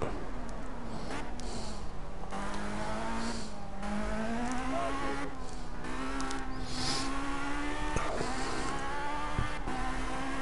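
A race car engine in the Project CARS driving game revs and accelerates steadily, its pitch climbing and dipping with throttle changes in one continuous, loud drone for the whole stretch.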